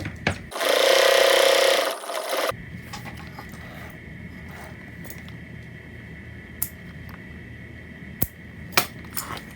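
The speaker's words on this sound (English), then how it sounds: "now we're ready to sew up the side seams." A machine rapidly stitches the side seams of a leather eyeglass case in one loud, continuous burst of about two seconds, followed by quiet handling clicks and light taps.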